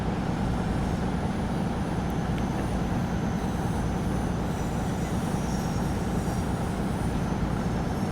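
A train in Train Sim World brakes with fierce brakes, producing a continuous heavy rumble and rolling roar with faint high squeals on top, loud and steady throughout without talk.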